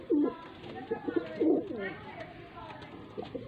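A female pigeon from a Faisalabad loft gives a few soft, rolling coos close by, heard alongside someone talking.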